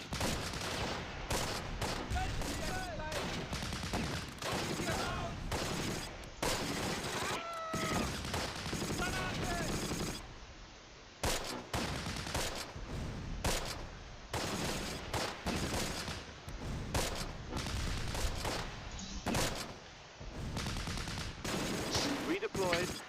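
MG42 machine gun fire in the war game Close Combat, dense rattling bursts and repeated shots stacked in quick succession, with sporadic voices over the clatter.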